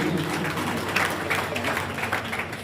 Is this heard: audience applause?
yes